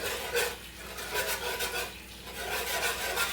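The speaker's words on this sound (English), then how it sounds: "So I'm gonna go ahead and whisk this in." A whisk scrapes and swishes through sauce in a pan on a low burner, a steady rhythmic rasping of repeated strokes, close and moderately quiet with no talking.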